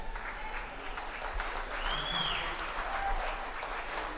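Crowd applauding squash players at the 2017 US Open, a sustained wash of clapping that swells slightly and continues at moderate distance, with a brief high squeak partway through.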